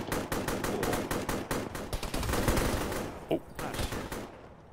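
Rapid gunfire cracks out of a window in the military shooter Arma during ShackTac play, with dense, evenly spaced loud shots rattling almost continuously before briefly dropping off near the end.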